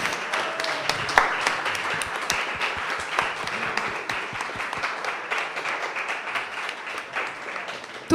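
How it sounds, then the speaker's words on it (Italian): An audience applauds Radio Beckwith at the Premio Ostana 2026 award ceremony, a steady, moderately loud round of clapping with distinct individual claps scattered through the crowd sound. "Ringraziamo ancora tantissimo Radio Beckwith, facciamo un applauso"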